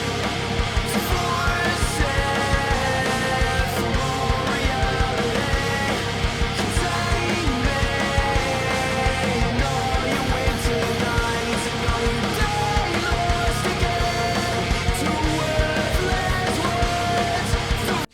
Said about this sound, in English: You get the vibes, kind of catchy, kind of shoegazy, very early 2000s.